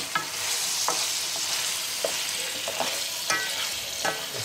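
A seafood pasta sauce with octopus, squid and slipper lobster gets stirred in a hot pan, steady sizzling broken by brief scraping clanks of the spoon every half second or so, close and fairly loud with no voices.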